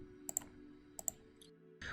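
Mouse clicks in Minecraft: Education Edition coding, two quick pairs of sharp taps close together, then a lone softer click, with faint room hum underneath and no talk.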